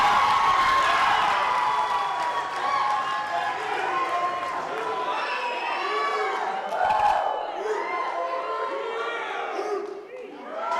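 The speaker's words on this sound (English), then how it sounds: "I would like to hear an equally thunderous round of applause for the best man, Mr. Mike Heim" Wedding guests at a reception cheer, whoop and shout for the best man, a lively crowd of overlapping voices with clapping, swelling and dipping over about ten seconds before quieting.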